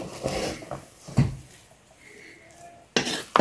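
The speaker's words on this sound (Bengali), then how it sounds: "ঢাকনাটা ওপেন করে দিচ্ছি। ওপেন করে নেড়ে দিচ্ছি।" A pot of pulao finished with ghee has its lid lifted and is stirred, with a few sharp metallic clinks and scrapes separated by quiet gaps.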